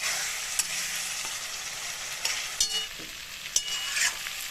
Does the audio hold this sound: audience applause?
no